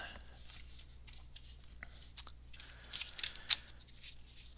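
Playing cards riffled and shuffled by hand during a magic livestream, a faint papery flutter with soft snapping bursts that grow busier toward the end, over low room hum.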